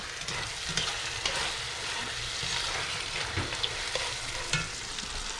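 Carnitas pork crisping in a pan, a continuous busy sizzle and crackle with small pops and scrapes as the meat is stirred, close and alone with no voices.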